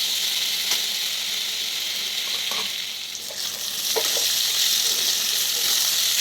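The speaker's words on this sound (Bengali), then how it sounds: "মশলাটা ভালো করে কষিয়ে নিতে হবে" A ginger, tomato and poppy seed masala fries in a pan with a steady, close sizzle, broken by a few soft scrapes and stirs.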